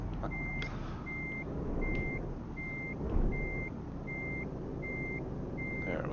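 A truck in Euro Truck Simulator backing up: steady, evenly spaced reversing beeps over a low engine rumble, with a brief thump partway through and no talk.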